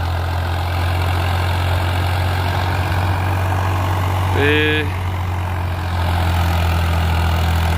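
A Swaraj 969 CRDi tractor engine ploughing a field under load rumbles steadily and loudly up close, with a brief voice cutting in midway.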